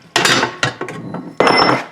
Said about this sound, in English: Might be able to just beat the rest of it out with a hammer.